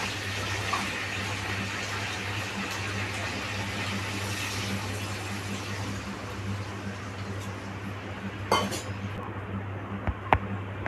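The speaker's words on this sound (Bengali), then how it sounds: "আমি এখন জল দিয়ে দিব।" Water runs steadily into a pot of cooked chicken, a continuous pouring wash over a low hum, ending with a few sharp clinks near the close.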